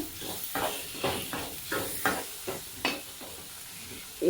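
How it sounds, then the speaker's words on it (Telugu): Green chilies with onion and tomato pieces frying in hot oil for ridge gourd chutney, a steady sizzle broken by repeated stirring scrapes at an irregular rhythm, close up with no talking. "ఆయిల్లోనే కాసేపు వేయించుకోండి"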